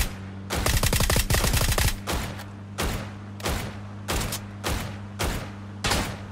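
Gunfire in the video game PUBG, opening with a loud burst of rapid automatic fire, then a series of separate heavy shots about a second apart, all close over a steady low hum.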